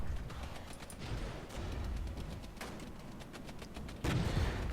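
Gunfire aimed at troops in the Regiments war strategy game: a dense, continuous rumble of distant rifle volleys and artillery booms, with a sharper, louder blast near the end.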